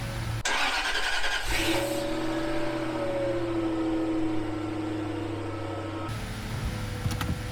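A Jaguar S-type with a newly fitted engine cranks and catches, then settles into a steady, close idle hum that runs for several seconds before the tone shifts near the end.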